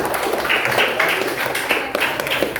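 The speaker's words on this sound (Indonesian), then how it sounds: "Tepuk tangan dulu untuk teman-teman." Students in a classroom applaud their classmates during a computational thinking lesson, a short burst of scattered, fairly close hand claps.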